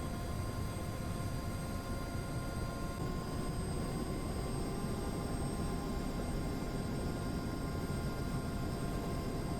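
Twin turbine engines of a UH-60 Black Hawk run at steady idle in DCS World, a constant broadband roar threaded with a fixed high whine, even and unbroken throughout.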